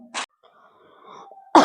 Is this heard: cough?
yes